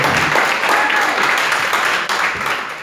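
An audience at the Madding Crowd in Bournemouth applauds a singer after her set, with steady, full crowd clapping throughout and some voices and cheers blended in.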